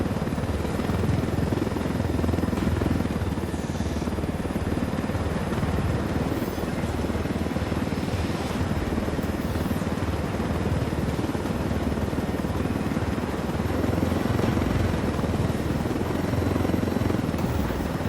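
A helicopter flies in Ghost Recon Wildlands with a loud, steady rotor thrum and engine whine held constant throughout, close and dominant, with faint background tones.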